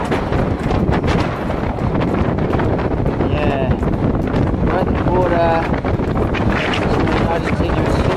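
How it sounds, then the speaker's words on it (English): Outdoors on a ride near a border, heavy wind buffets the microphone in a constant loud rumbling roar that fills the whole stretch, with faint voices briefly audible beneath it. "But the wind hasn't been too bad."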